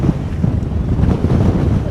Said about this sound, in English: It's absolutely nuts with wind.